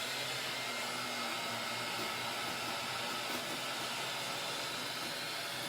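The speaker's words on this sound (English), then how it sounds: "But heat it up just a touch and let it do its thing on that one." A heat gun blowing on paint and pigment swirled on a tumbler, a steady even whooshing hiss of hot air running without pause, close and moderately loud.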